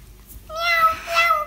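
A voice imitates a cat's meow, one drawn-out, wavering call up close with a slight rise and fall.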